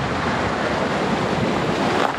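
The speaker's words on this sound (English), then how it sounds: "Oh, some big waves around the corner, if you can see." Ocean waves break near Galle, Sri Lanka, a continuous loud roar of surf mixed with wind buffeting the microphone, with no talking.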